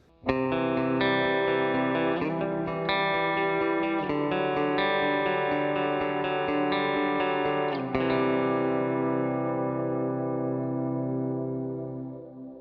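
An electric guitar plays sustained chords through a GarageBand stereo reverb before stereo amps, the notes blooming wide, then a final chord rings out and slowly decays.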